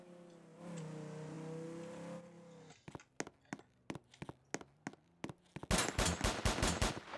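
A vehicle engine hums and fades, then single gunshots ring out at a steady pace before a fast, loud automatic burst, shooting at a vehicle in the Emergency Response game.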